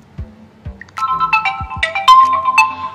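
A Realme 3 Pro phone plays its ringtone through its own speaker: a loud, bright, close electronic melody of quick, rising tones after a few soft taps, with no talking.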